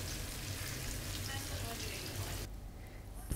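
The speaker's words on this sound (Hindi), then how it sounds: "इसको अच्छी तरह से आपने फ्राई करना है, इतना कि ये गोल्डन ब्राउन हो जाए" Onions frying in a pan for dal, a steady close sizzle and crackle of oil that runs unbroken, thinning toward the end.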